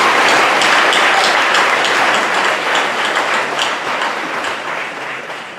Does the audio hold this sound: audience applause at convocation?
yes